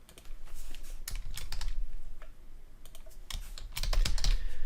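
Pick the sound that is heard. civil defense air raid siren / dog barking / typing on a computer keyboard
typing on a computer keyboard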